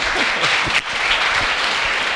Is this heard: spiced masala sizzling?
no